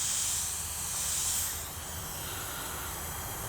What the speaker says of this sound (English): I can hear something leaking.